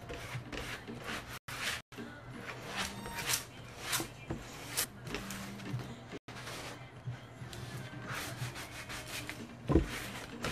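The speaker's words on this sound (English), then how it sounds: "I basically just get my squeegee or credit card or whatever. And just make sure that it's all stuck on to my transfer tape." A squeegee or credit card is rubbed firmly across transfer tape laid on a vinyl sign, making close, repeated scraping and rubbing strokes with small bumps and no talk.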